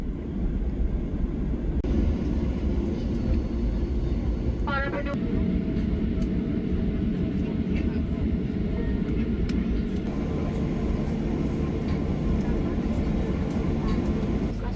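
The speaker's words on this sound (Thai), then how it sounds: "อันนี้ก็คือ Aero Train ที่เชื่อมระหว่างอาคารหลักกับอาคาร Satellite Terminal" Aero Train shuttle linking the main building and satellite terminal at an airport, a steady loud rumble of rolling wheels and motor with a brief rising whine partway through, under airport hum and occasional voices.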